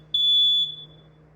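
An apartment smoke alarm during a flood lets out one loud, shrill, piercing beep of about half a second. The beep then fades into a quiet low hum.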